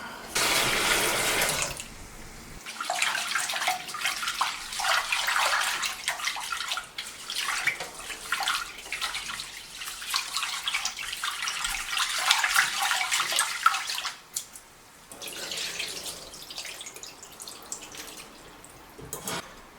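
Water runs steadily from a tap into a sink, a broad splashing rush that briefly stops, then resumes more softly.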